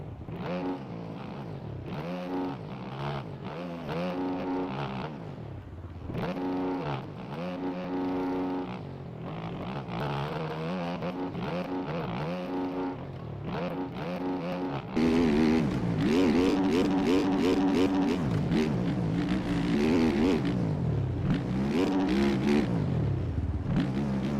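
Motocross bike engines racing in the video game MX Bikes, whining and revving up and down through gear changes, staying loud and close, then surging louder in the final stretch.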